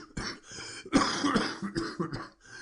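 A voice performs a harsh fit of coughing, several ragged bursts in close succession, as a feverish character in a nitre-encrusted wine vault; the coughs are loud and near, with no other talk.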